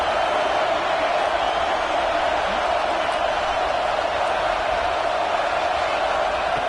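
Roaring crowd noise fills a football stadium before a third-down red zone play, a constant loud wash of voices with no breaks, sustained throughout.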